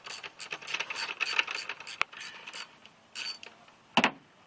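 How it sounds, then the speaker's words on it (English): Bolts being worked loose on the throttle body of a 2001 Honda Civic LX, a run of soft ratcheting, clicking metal mechanism sounds close up, ending in a sharper clank. "Taking off the bolts here."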